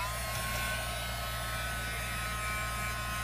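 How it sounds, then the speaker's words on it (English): A craft-room heat gun blowing hot air onto rayon ribbon, a steady unbroken whirring hiss with an electric hum underneath, close and constant. "I'm going to dry it with my heat gun."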